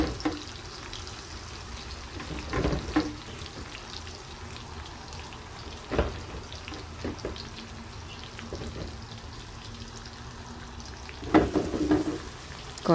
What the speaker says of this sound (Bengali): এখন ফিশগুলো তেলে দিয়ে দিব।